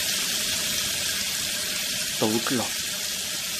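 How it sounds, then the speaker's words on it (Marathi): A water tap runs in a home bathroom at night, a steady hissing stream throughout, with a voice speaking briefly over it. "आनी ताका नळाच्या उदकाचो आवाज येवपाक लागलो."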